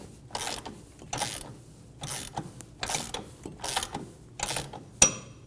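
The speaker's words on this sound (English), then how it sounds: "Snug the inner tie rod down." Ratchet wrench snugging down the inner tie rod on a 2008-2015 Scion xB: six rapid clicking bursts in an even rhythm, close and clear, with no talk.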